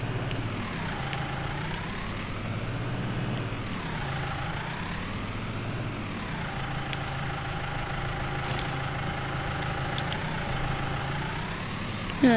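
A tractor engine idles in a steady, loud low rumble while its pitch slowly rises and falls in repeated swells, with no voices over it.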